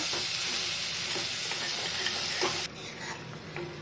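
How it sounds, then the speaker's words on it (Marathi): Masala with peanut chutney sizzles in oil as it is stirred continuously in a pan, a close, even hiss with scraping spoon touches that softens slightly toward the end. "मसाला परतत असताना सारखा हलवत राहायचा, खाली करपायला नको म्हणून"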